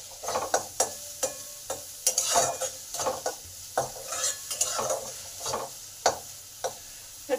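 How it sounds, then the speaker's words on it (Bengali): Salted chopped onion fries in a pan with garlic, a spatula scraping and clinking against the pan in steady repeated strokes over a constant sizzle, close up. "পেঁয়াজটাকে ভালো করে লাল লাল করে ভেজে নেব।"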